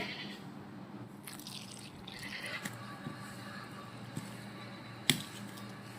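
Water is poured into a pot of ghugni, the spiced dried-pea curry, with a faint, steady liquid trickle and occasional drips under a low background hum, ending in one brief sharper splash.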